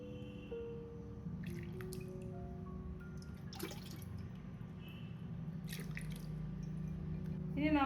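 Grape juice for homemade wine drips and trickles as it is strained through a thin cloth towel, soft irregular drips over a low continuous background, with a few faint scattered clicks and a swell at the end.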